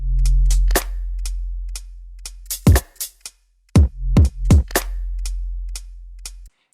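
Sparse hip hop drum loop with a deep sub bass hit, booming low bass swells under crisp hi-hats, punchy kicks and snares, recurring in a slow, spacious cinematic pattern with a short gap midway.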